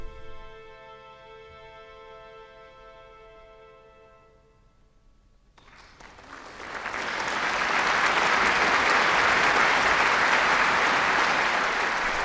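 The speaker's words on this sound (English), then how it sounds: "If it's a popular classic, there's also polite applause." A classical concert audience breaks into polite applause after a sustained tonal passage ends, the clapping swelling steadily into a full, even wash of hands.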